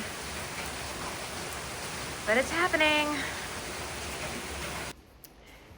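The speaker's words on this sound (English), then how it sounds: "It's now 9 o'clock and the wind and the rain have definitely picked up" Rain falling during Hurricane Milton, a steady hiss of downpour on surfaces, with a voice briefly speaking over it before the sound cuts away.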